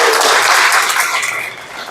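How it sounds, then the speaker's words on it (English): Applause from an audience at an evening business award reception, loud and dense from the start and tapering slightly over two seconds. "Let's give them another round of applause."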